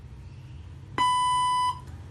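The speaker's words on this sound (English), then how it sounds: "Kishore, please speak in English after the beep, or say exit after the beep" A robotic language translator gives a single clear electronic beep prompt lasting under a second, loud against a quiet background hum.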